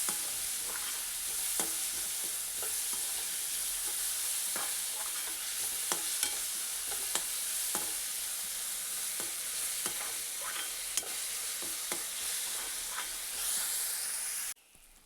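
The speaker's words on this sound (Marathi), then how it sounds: "ते देखील आपण फोडणीत भाजून घेणार आहोत" Chopped small red tomatoes frying in a hot-oil spice tempering hiss and crackle steadily for a long stretch, with regular spoon scrapes and taps, then the sound cuts off abruptly.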